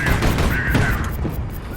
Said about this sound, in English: It's these stupid missiles that they keep sending.